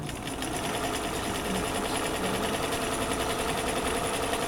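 A sewing machine stay stitching a neckline seam at a quarter-inch allowance runs in a steady, fairly quiet whirring buzz throughout, with no voices.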